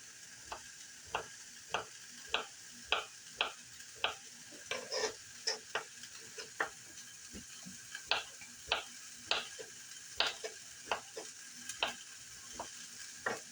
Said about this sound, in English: If you hear that sizzling in the background,